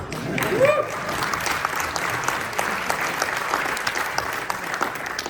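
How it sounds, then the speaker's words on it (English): Sustained applause from an audience at a Hall of Fame awards ceremony, even and continuous throughout, with a brief voice near the start. "I saw someone clapping."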